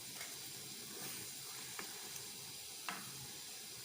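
A Peshawari chapli kabab fries in a pan with a soft, steady sizzle and hiss, joined by a few faint clicks and small bumps. No one speaks.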